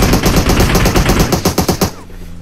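Rapid automatic gunfire in PUBG Mobile: a loud, close burst of evenly spaced shots rattling for about two seconds, then cutting off abruptly into quieter background.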